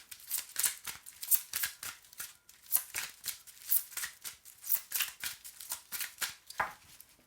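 Tarot cards being shuffled for a cross spread, a long run of crisp riffling bursts in an uneven rhythm, close and moderately quiet, with no voices.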